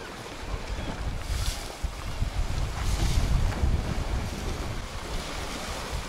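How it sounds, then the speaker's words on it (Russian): Steady rushing sea surf rolls continuously at Narlıkuyu bay, Turkey, with waves washing in and a layer of wind noise buffeting the microphone throughout. "Я слышу шум моря."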